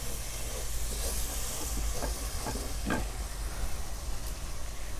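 Stirring in a clay pot of moong dal and rice over a steady sizzling hiss, with a few short scraping strokes in the middle.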